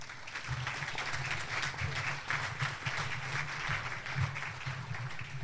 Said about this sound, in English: Ladies and gentlemen, please give a nice round of applause to Stanley Kurtz.